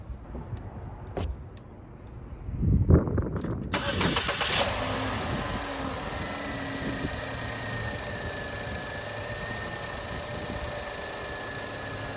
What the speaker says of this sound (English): we're good to start it and take it for a test drive